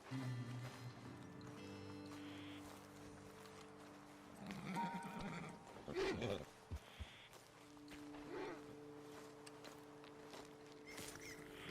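Horses whinny and snort amid clip-clopping hooves and a steady hum of game ambience in Red Dead Redemption 2, with low speech in the background.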